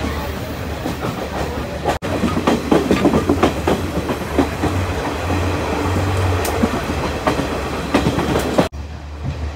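A non-AC first-class railway carriage on the Colombo to Kandy line rolls along with a loud, continuous rumble and rattling wheel clatter that fills the cabin almost without pause.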